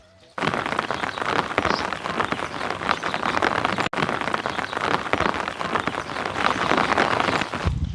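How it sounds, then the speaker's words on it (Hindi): Steady drizzle falls outdoors, a close, even patter of light rain that starts abruptly and continues without pause, with no one talking. "बारिश तो रिमझिम लगी हुई है"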